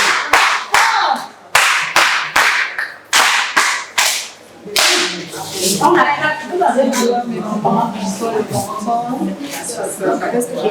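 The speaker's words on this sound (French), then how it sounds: "Et Madame Mouniemo Hortense, on va applaudir pour elle" An audience claps to welcome a guest at a community event in Cameroon, starting with sharp, separate claps in a steady rhythm for about five seconds. It then turns into a dense, continuous round of applause mixed with talk.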